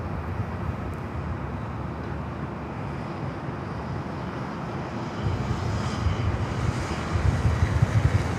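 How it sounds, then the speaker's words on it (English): Alaska Airlines Boeing 737-800 arriving at LAX, a low, broad jet engine rumble heard from a distance that grows louder and rougher toward the end as the plane approaches. "Next arrival here on the north side is Alaska Airlines Flight 696, coming in from Seattle, 737-800"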